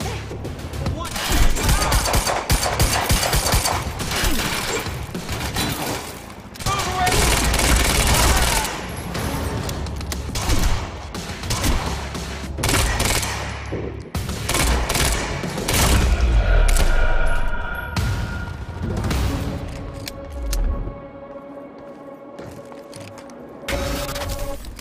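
Gunfire in the video game Quantum Break: dense bursts of automatic fire and sharp shots crackle through a busy combat scene over roughly twenty-five seconds, mixed with other effects and occasional voices.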